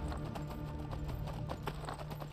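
Hooves of a galloping horse in the video game Skyrim, a quick rhythmic clip-clop beat, steady and close throughout with no voices.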